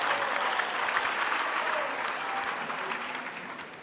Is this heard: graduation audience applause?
yes